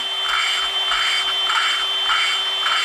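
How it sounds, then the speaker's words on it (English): A Yamaha Wolverine X4 engine valve being lapped with lapping compound, a steady close gritty rubbing that swells and eases in repeated strokes over a constant background hum. "You want to lift it as you go every couple seconds to just redistribute the lapping compound."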